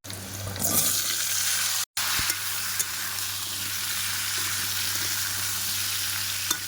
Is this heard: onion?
yes